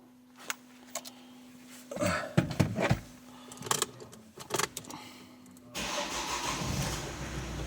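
An Opel Zafira B is cranked after its fuse block was replaced: quiet clicks and key rattles give way to a few sputtering cranking bursts, then the engine catches near the end and settles into a steady close running hum.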